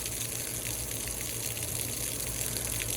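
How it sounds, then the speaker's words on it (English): Water gushes steadily from a faucet as a tank drains outdoors, a continuous close rushing flow with a faint low hum and no break. "I'm just gonna turn on this, and you're gonna see that the water is coming out."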